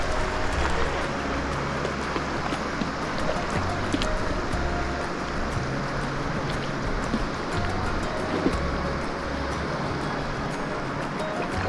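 Boulder Creek in Wyoming rushes along at a campsite, a steady broadband wash of flowing water that stays loud and continuous with no talk over it.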